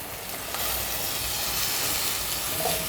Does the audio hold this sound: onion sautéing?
yes